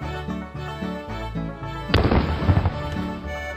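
Artillery fire in the strategy game Colonization sounds as a sudden loud blast with crackling bursts, rising over a tonal game music backdrop and fading after about a second.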